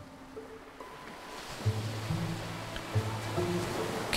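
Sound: ocean surf breaking on shore in video game To the Moon

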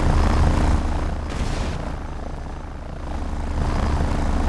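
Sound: helicopter gunship flying, from video game ROTR

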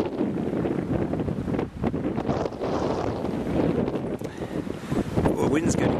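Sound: wind blowing on a woodland walk

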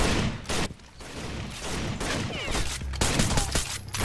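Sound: blind-fire gunshots in Rainbow Six: Vegas 2 video game

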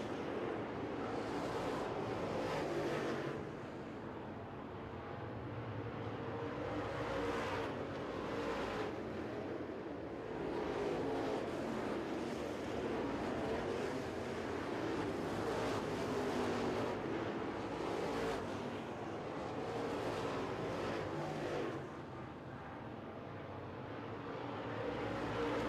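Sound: late model race cars at Smoky Mountain Speedway

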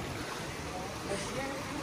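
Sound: waterfall water coming down from the mountains

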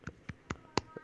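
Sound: finger snap as the sound of one hand clapping

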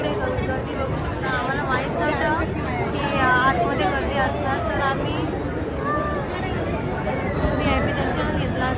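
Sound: crowd of people waiting in a temple queue

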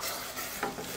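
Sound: stirring meat frying in a pan

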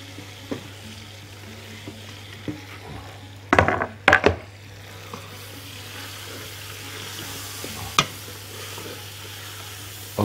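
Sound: diced onions frying with sizzling meat for kabsa

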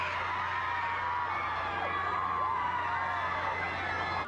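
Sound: crowd cheering outside the courthouse

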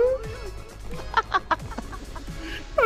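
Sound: person imitating a chicken clucking

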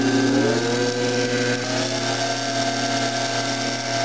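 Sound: permanent magnet motor spinning as pedal bicycle generator

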